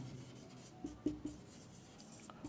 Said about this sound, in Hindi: और लिखते हैं, मोहनी इज डांसिंग